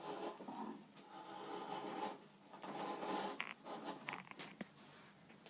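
A sharp hand tool shaves thick curls of wood from a classical guitar neck, producing close, dry rasping strokes in repeated short bursts with brief pauses between them.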